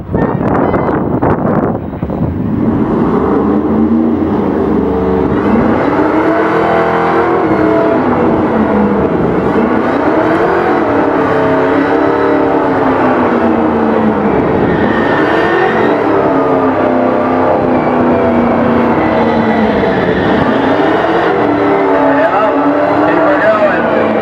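Cars racing at a street takeover in Concord, North Carolina, with a Mustang in the lead: loud, continuous engine roar rising and falling in repeated revving sweeps, heavy wind buffeting, with voices talking over it.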